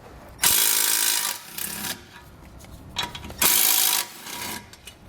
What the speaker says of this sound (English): remove these brackets on each side of the frame at this time using our 16mm socket